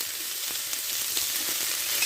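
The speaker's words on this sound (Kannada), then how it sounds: "ತುಂಡು ಮಾಡಿಟ್ಟಂಥ ಟೊಮೆಟೊವನ್ನು ಇದಕ್ಕೆ ಹಾಕುವ." Chopped tomato hits a pan of dry fish, raising a steady, close hiss and crackle of sizzling oil that runs unbroken for about two seconds with no voices.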